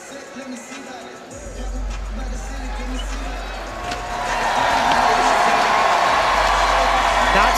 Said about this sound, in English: so awesome to hear this amazing crowd getting behind her